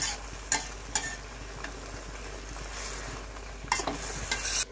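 A thin fish curry with three kinds of greens stirred in a pan, with occasional spoon scrapes and knocks over a low continuous simmering hiss, close by.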